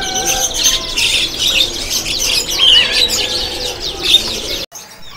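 White canaries for sale at a kiosk in Pramuka bird market, chirping in a dense, continuous chorus of bright, overlapping trills that stops abruptly near the end.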